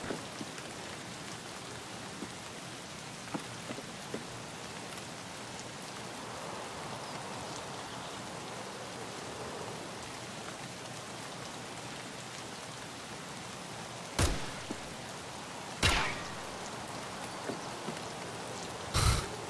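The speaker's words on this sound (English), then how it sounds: "The rain's working in my favor here." Steady soft rain in the video game Escape from Tarkov hisses evenly in the background, with a few brief louder bursts near the end.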